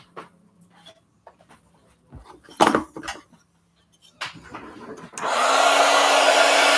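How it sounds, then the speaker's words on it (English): A heat gun used on a craft journal page switches on after some quiet rustling and tapping of paper and tools, then blows with a loud, steady, close hiss until the end. "All right, heat gun alert."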